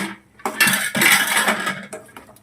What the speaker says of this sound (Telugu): ఇప్పుడు మనం మూత పెట్టేసుకుందాం ఫ్రెండ్స్